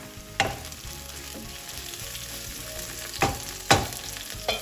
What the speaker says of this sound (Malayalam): കറിവേപ്പൊക്കെ ചേർത്തിട്ട് ഒന്ന് വഴറ്റിയെടുക്കാം